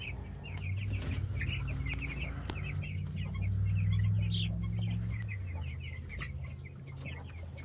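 Meat chickens and ducks, about 65 birds, share a hot pen, filling it with steady, close clucking and chirping chatter over a low murmur, with no talking.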